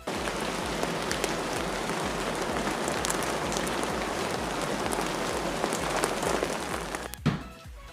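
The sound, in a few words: water sprayed in bathroom to simulate heavy rain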